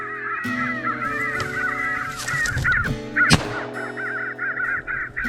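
Crows caw repeatedly from a distance on a hunting trip near the northern border, with harsh calls coming in steady bursts across the whole stretch while other birds sound faintly.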